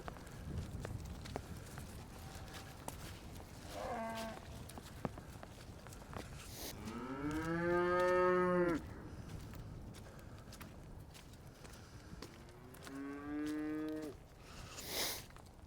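Cattle on a ranch give several long, loud moos, one drawn out in the middle and a shorter one near the end. Hoof steps shuffle and thud softly between the calls, and a person calls out faintly at the start.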